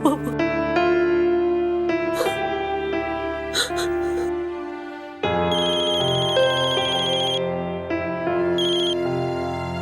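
A telephone rings with a bright, repeating electronic melody that plays continuously, with a brief pause midway, under faint background voices.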